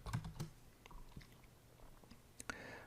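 Keystrokes on a computer keyboard tap in a quick, uneven burst up close, then thin out into scattered clicks before a brief louder clatter near the end.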